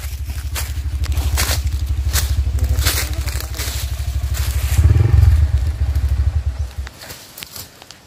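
A motorcycle rides along a dirt trail toward a huge balete tree in Pangasinan, its engine a loud, steady low thrum with crunching and clattering over rough ground, swelling briefly before fading near the end.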